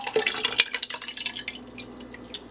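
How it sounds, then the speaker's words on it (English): Veggie broth poured and stirred into a pot of vegan lentil soup, giving a close series of wet drips, splashes and light spoon knocks against the pot, with no talk. "We're going to add in our veggie broth, give it a quick stir"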